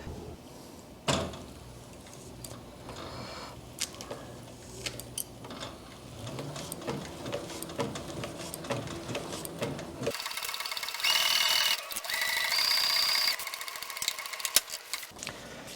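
A sewing machine stitches heavy ballistic nylon with thick V135 bonded nylon thread and a number 22 ballpoint needle, running in bursts of close mechanical whirring and clattering, with a louder, brighter run in the later part.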